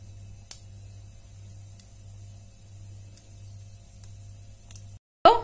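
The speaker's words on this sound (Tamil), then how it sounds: "இதெல்லாம் நல்லா பொரியட்டும்." Urad dal and chana dal frying in hot oil for a banana flower poriyal, a quiet steady sizzle with a low hum beneath, a brief tap early on and a sharp louder clatter at the very end.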